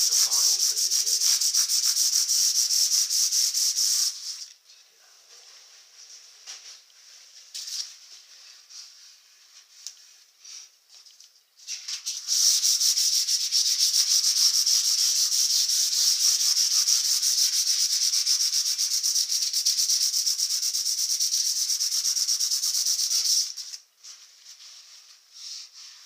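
Fine-grit sandpaper rubs steadily along the metal frets of a bass guitar in long, continuous passes, broken by a short quieter pause midway before sanding resumes loudly and evenly, close up with no talking.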